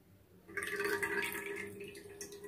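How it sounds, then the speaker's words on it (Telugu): Coconut oil, about 100 ml, pours into a pot on a lit stove as a faint, steady trickle that lasts a couple of seconds, heard close and alone. "ఒక 100 ml కోకోనట్ ఆయిల్ అందులో వేస్తున్నానండి."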